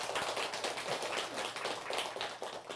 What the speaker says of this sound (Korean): 우리 도성사 큰 스님께 박수 한번 주시기 바랍니다